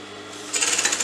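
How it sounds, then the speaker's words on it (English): A sewing machine stitches a fabric cuff sleeve, starting after a brief quiet moment with a quick, steady run of close needle pulses. "So let me show you how to stitch this together."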